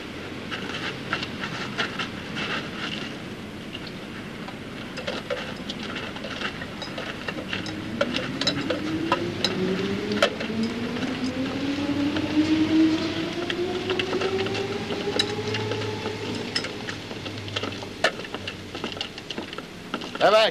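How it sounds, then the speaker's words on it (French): A train enters a station with a rising, drawn-out rumble and a gliding brake whine, with steady clattering underneath. The sound is loud and sustained, and voices mix in. "Un train va entrer en gare dans une minute."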